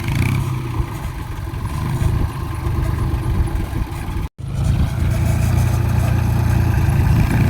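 Tractor engines run at a tractor rally in Maharashtra, with a steady, close mechanical rumble and clatter that cuts out briefly near the middle. No voices are heard.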